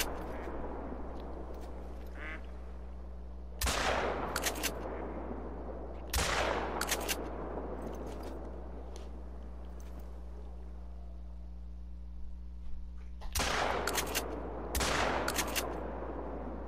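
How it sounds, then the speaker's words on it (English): Rifle gunshots ring out while hunting ducks in a video game, several sharp loud cracks spaced apart over a steady low motorboat hum, with occasional faint duck quacks between. "I'm gonna shoot this one, iron sights."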